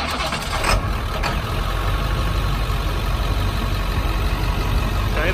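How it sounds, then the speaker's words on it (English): A 7.3 liter DT444E diesel engine in a 2002 International 4700 bucket truck rumbles steadily at close range, a low continuous drone with a brief louder burst near the start, no voices. "start the truck and you can listen to the main engine"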